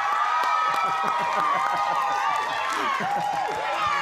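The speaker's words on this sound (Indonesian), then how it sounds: "Kita berikan tepuk tangan." Audience clapping and cheering at a Jakarta vice-governor candidates' debate, a dense, steady crowd roar that holds for several seconds with voices mixed in.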